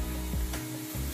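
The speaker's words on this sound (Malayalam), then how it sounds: "ഇനി ഇതിനകത്തേക്ക് എടുത്തു വെച്ചിരിക്കുന്ന 2 table spoon ginger garlic paste ഇട്ട് കൊടുക്കാം" Ginger garlic paste tossed into a pan of browned onions for chicken biryani, giving a steady close sizzle with a scrape of stirring partway through, with no voices.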